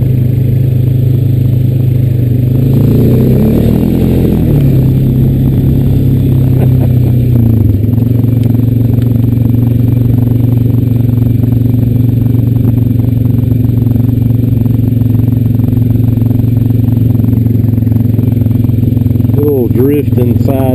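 A Honda Rancher 420AT ATV churns through powdery dust with a steady, close engine drone. The engine pitch shifts and rises early on, along with some clatter, and a rider talks over it near the end.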